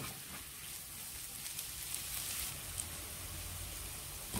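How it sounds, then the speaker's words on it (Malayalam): Steady soft sizzle of chopped tomatoes hitting frying masala in a pan while cooking chicken Mughlai, a continuous hissing crackle at low, even level with no talking. "ഇനി ഇതിലേക്ക് ചെറുതായി കട്ട് ചെയ്ത 2 തക്കാളി ചേർത്ത് കൊടുക്കാം"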